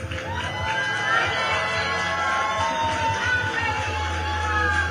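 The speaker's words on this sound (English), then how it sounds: "Please give them a round of applause." A large crowd cheers and shouts continuously, with excited voices and whoops blending into a loud, sustained roar of approval.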